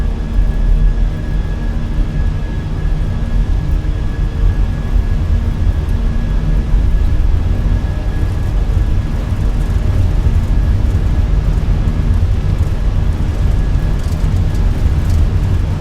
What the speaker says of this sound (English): We're cleared for takeoff from runway 34.